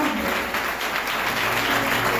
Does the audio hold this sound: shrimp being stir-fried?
no